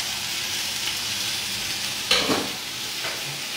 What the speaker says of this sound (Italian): e lascio ancora friggere